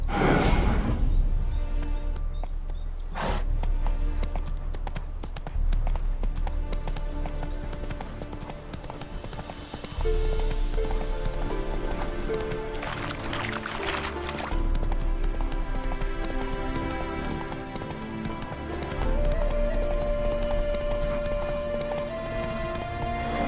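Steady hoofbeats of a horse clip-clop throughout under a dense layer of music and ambient sound, with a sharp knock early on, in the video game The Witcher 3: Wild Hunt.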